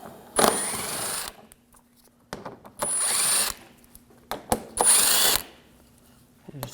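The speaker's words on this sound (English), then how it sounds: "We're going to take these screws out." Power tool fitted with an 8mm socket removing screws from the front bumper shield of a 2007-2013 BMW 328i, three loud bursts of whirring about a second each with short pauses and small clicks between.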